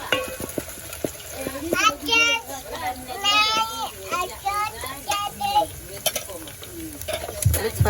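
Tomatoes fry in a pan and get stirred, a soft sizzle and scraping running under a voice while children chatter and play nearby.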